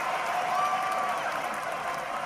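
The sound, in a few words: baseball crowd applauding and cheering at game end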